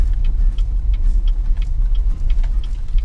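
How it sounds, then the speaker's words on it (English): A small engine-powered buggy driven by a kid at an American outdoor shooting range, a steady low rumbling engine drone that holds near and loud throughout. "There's a kid driving a buggy around with a load of guns."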